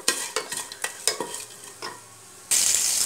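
Oil frying in a pan for tomato rice, first stirred with several sharp scraping strokes, then a sudden loud, steady sizzle close by, with no talking.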